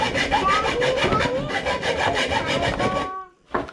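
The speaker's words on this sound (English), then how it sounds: "Got me a hacksaw here." A hacksaw cuts through an intake pipe on a 2006 Acura TL, with quick, even back-and-forth rasping strokes that are close and loud, then stop abruptly near the end.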